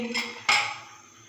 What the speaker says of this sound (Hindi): अब हम इसे अच्छे से हिला के मिक्स कर देंगे